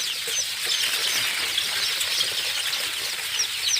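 Many chicks at a poultry farm give dense, high-pitched overlapping peeps and cheeps. The flock chirps continuously and fairly loudly with no pauses and no talk.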